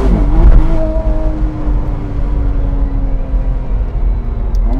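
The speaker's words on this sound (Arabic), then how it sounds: "صوت السيارة متوحش." A 2025 McLaren Artura Spider engine revs hard and loud up close, its pitch climbing, then settling into a strong, steady growl.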